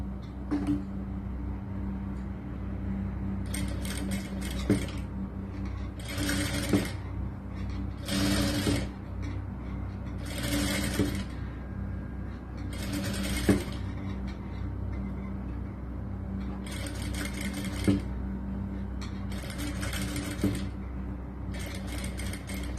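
A sewing machine stitches the folded edge of a churidar top's lining in several bursts of rapid mechanical chatter, with short pauses between runs, close and clear over a low background hum.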